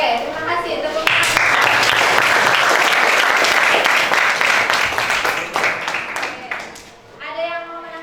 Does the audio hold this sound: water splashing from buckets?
no